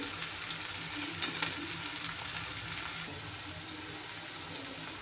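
Curry leaves and ginger garlic paste frying in a pan with green chillies and onion, a steady loud sizzle throughout with faint stirring clicks, no voices.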